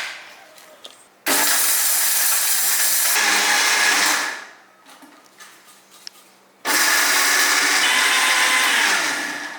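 A mixer grinder loudly whirs as it grinds tamarind and spices into rasam powder, running in two long bursts of several seconds each with a quieter pause between them.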